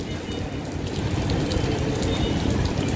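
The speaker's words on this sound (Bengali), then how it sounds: "বৃষ্টিটা এই আলোতে বোঝা যাচ্ছে বৃষ্টিটা কেমন পড়ছে," Heavy rain pours down steadily in Puri, a dense continuous hiss and patter of drops on surfaces, loud and close with no break.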